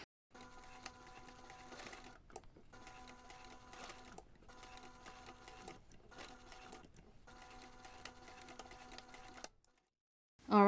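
A sewing machine top-stitches fabric for a gnome Christmas tree ornament, running in steady mechanical bursts of rapid stitching with short pauses between runs, close and moderately loud.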